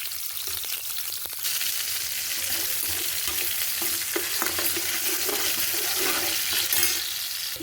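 Onions tossed into hot oil with spluttered mustard, cumin and fenugreek seeds fry with a loud bubbling sizzle while a spoon stirs and scrapes the pan.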